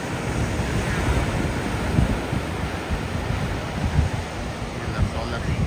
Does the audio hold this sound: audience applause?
no